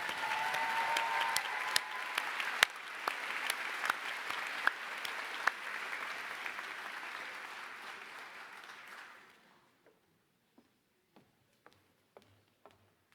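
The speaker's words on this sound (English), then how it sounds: "So let's have another round of applause for both of the recipients." Audience applause at the UCSF School of Dentistry 2018 commencement, a steady dense crowd clapping with a few sharper claps standing out, then fading out abruptly to silence broken by a handful of isolated late claps.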